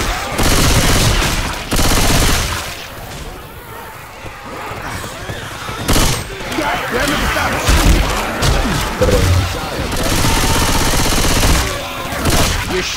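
Bursts of video game gunfire crackle through a busy shootout, with repeated thumping volleys over a few seconds while players talk over the action.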